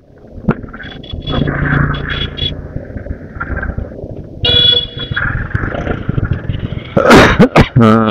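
Several sharp, tickly coughs near the end, close and loud, over steady traffic and wind noise near a bridge at Birulia, with a vehicle horn sounding earlier.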